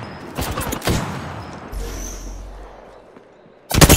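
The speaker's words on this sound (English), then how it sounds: "I am taking fire." Gunfire in the battle royale video game Apex Legends, with bursts of shots and impacts at the start, a low rumble and fading tail through the middle, then another loud burst at the end.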